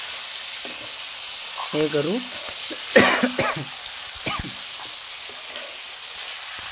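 Village-style chicken curry sizzles and fries in a pan while being stirred, a continuous crackling hiss with scraping stir sounds, under brief speech and a cough.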